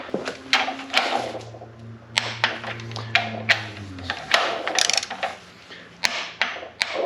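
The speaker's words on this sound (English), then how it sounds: "So when you tighten it to 30 foot-pounds," A torque wrench tightens a main bearing cap during a rebuild of a 1972 CAT 3306 diesel engine, giving a series of sharp metallic clicks and ratcheting knocks with a low hum under the first half.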